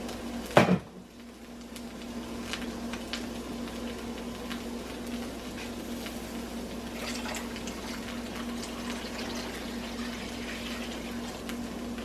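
Chicken broth pours into a pot for a penne chicken Alfredo, a steady liquid rush running under a constant hum after a brief clunk at the start, with no talk.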